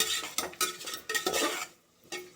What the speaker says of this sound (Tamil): தக்காளி போட்டுக்கோங்க. அடுத்து என்ன பண்ணணும்னா நல்லா வதங்கட்டும்.